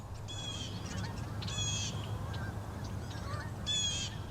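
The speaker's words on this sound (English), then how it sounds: "Thousands of Canada geese congregate here in the fall" Canada geese honk in a fall gathering on Belle Isle, with repeated nasal calls in short bursts at moderate distance over a steady low rumble of background noise.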